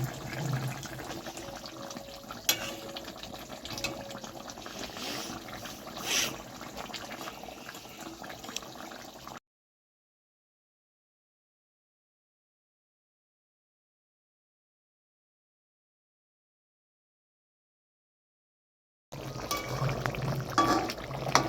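Fish dropped one at a time into a pot of boiling water with potatoes, a steady close bubbling and sloshing that cuts out into silence midway before the boil resumes.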